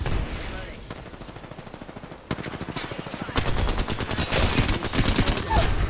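Rapid automatic gunfire in Apex Legends, a dense stream of close, loud shots that thickens and grows louder partway through, with game voice callouts faintly beneath.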